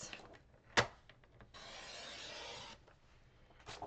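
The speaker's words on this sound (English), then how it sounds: "I'm going to use that piece and I'm going to cut it down to 4 1/4 by 11" Paper cutting on cardstock for a handmade wedding card: a sharp click, then a long steady scraping slide of a trimmer blade, with faint handling rustles before and after, close and quiet.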